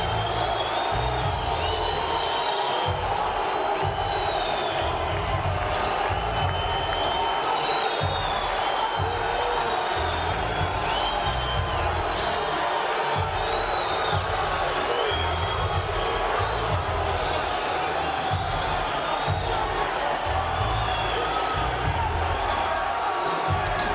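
Boxing arena crowd roaring and cheering as a fighter climbs through the ropes before a championship bout, a dense continuous wall of noise with whoops and some bursts of applause, a commentator's voice running over it.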